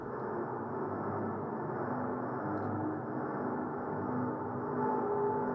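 A sustained synthesizer drone, a dense, steady tone with slight movement in its texture, holding at an even moderate level for several seconds.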